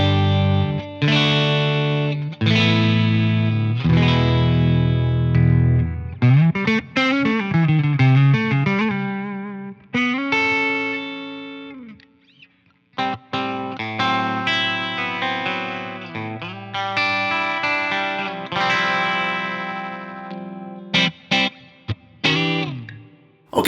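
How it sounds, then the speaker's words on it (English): Clean electric guitar through the clean channel of a Bogner Goldfinger amp, with ringing chords and single-note phrases, some bends and slides, played alone with a shimmering, slightly effected tone. "here's my clean sound. I'm going into the clean channel of the Bogner Goldfinger behind me"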